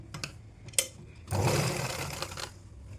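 A sewing machine stitches a fall onto a saree, opening with a few short bursts of stitching and then running in one continuous whirring stretch of about a second before tapering off, close and clear with no talk.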